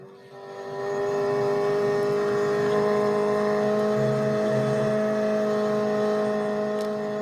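A racing car's engine in Real Racing 3 holds a strained, steady high-rpm drone at top speed, rising in at the start and sustained loud and alone with a harsh tonal whine.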